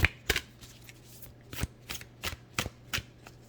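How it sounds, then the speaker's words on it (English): A Beyond Lemuria oracle card deck is shuffled up close in a series of crisp, papery riffles and slaps, about seven distinct bursts over a low steady hum. "So let's also pull an oracle card for you."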